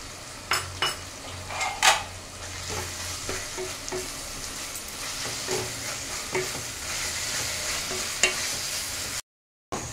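A paste of green chili, garlic and ginger fries with onions in a pan for gondhoraj chicken. A low sizzle runs beneath repeated scraping and clinking of a spatula stirring against the pan, and the sound cuts briefly to silence near the end.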